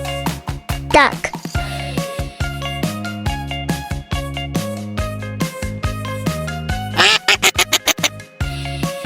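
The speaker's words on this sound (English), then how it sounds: "Duck." A cartoon-style duck quacks in short bursts over a bright, busy musical backing, with a quick run of rapid quacks near the end.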